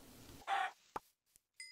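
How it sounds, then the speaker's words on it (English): Chickens in the Minecraft video game give a few short, quiet clucks and squawks in quick succession, separated by brief gaps with other faint game sounds. "Yeah, there are a lot of chickens here."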